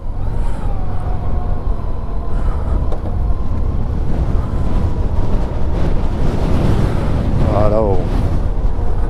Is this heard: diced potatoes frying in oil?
no